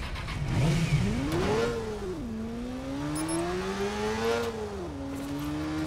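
A small motorbike engine in Watch Dogs revs up and down, rising and falling in pitch through several throttle swells, loud and close against a faint background.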